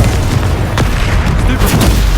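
Confringo blasting spell exploding in Hogwarts Legacy, a loud dense boom with crackling impact bursts layered over constant battle noise, brief and close.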